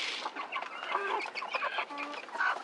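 A hen clucks in a quick run of soft, close, chattering calls, continuous and alone over a quiet background.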